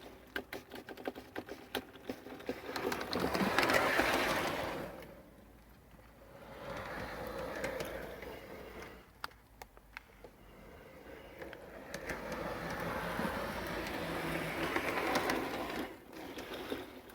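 Small model railbus, a converted six-wheel coach fitted with an HLW motor block, running along track with a faint, steady mechanical whirr and light ticking that swells and fades as it passes.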